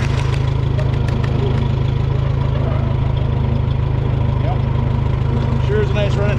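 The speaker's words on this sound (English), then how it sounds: "Sure is a nice running tractor." An old farm tractor engine, once left sitting for some twenty years, runs at a steady, rhythmic idle with a deep, constant chugging rumble, loud and close.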